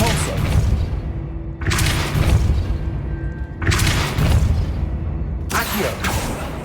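The Depulso spell from the game Hogwarts Legacy is heard as repeated loud whooshing blasts with booming thuds, three bursts spaced about two seconds apart with busy game noise between them.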